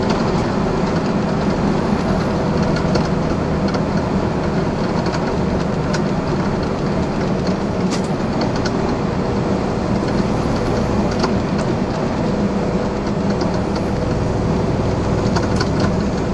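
A truck drives along U.S. 58 in Patrick County, Virginia, with its Jake brake engaged, giving a loud, steady, unbroken rumble and roar that holds throughout with no talking.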